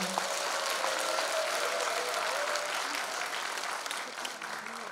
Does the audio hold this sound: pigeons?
no